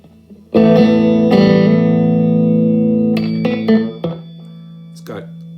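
A distorted electric guitar chord rings out in a crunch tone through effects units, struck loud and sustained, followed by a few shorter picked notes and a fading tail.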